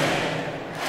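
A dense crowd roars and chants in the NBA 2K24 basketball video game during a free throw, heard as a loud, continuous wash of voices for about a second.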